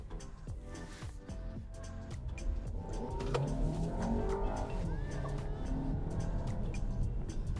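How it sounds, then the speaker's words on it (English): A 2022 Volkswagen Tiguan SEL R-Line with a 2.0-liter turbo four-cylinder accelerating hard, engine drone building steadily and holding loud, heard from inside the cabin with faint tire noise. "Go ahead and get an acceleration test here."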